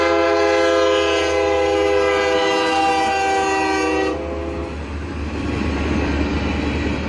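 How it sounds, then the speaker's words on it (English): A short BNSF freight train sounds its horn loudly in sustained chords for about four seconds while the cars rumble past close by. After the horn stops, the steady rolling noise and clatter of the train carry on alone. "It's a really short train,"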